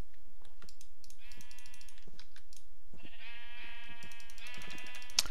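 Sheep in Minecraft bleat twice in a row, each a drawn-out nasal call, the second longer and louder, over faint clicking in the background with no talking.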